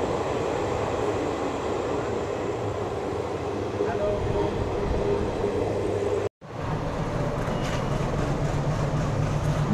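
Continuous rumble and rattle of the Black Diamond superfast express from Dhanbad to Howrah running through a station near Howrah, heard from on board, steady and close, with a brief sharp dropout midway before the clatter resumes.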